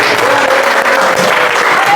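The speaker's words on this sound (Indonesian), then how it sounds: "Udah, silakan beri tepuk tangan." A classroom of students claps loudly and continuously for a short burst, the dense applause filling the room without pauses.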